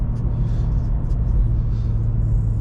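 Inside a manual BMW M2 tuned to stage 2+ on a road drive in Long Island, a deep, steady engine drone and low road rumble fill the cabin at close range with no talk.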